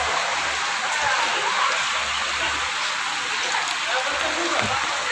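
Floodwater after heavy rain rushes in a steady, loud broadband roar that fills the whole clip, with a voice faintly present beneath it.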